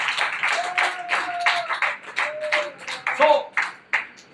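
A church congregation clapping to thank God, a run of sharp hand claps in bursts and rhythmic rounds, close and fairly loud, with voices and a few sustained tones sounding alongside.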